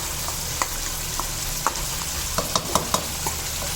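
Chicken masala with tomato paste frying on high heat, a continuous sizzle broken by sharp clinks and scrapes of a spoon stirring in the pan.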